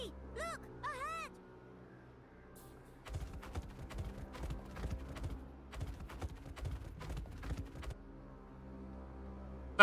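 Hooves clip-clop in a video game, with a brisk, irregular run of hoof knocks in the middle of the clip. A brief synthetic whinny-like call comes first, and there is quiet before and after the hooves.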